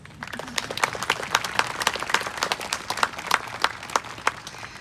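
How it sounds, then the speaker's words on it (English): A graduation ceremony audience gives a round of applause, many hands clapping in a lively, irregular patter with crisp individual claps standing out, fairly close and without talk. "please give yourselves a round of applause."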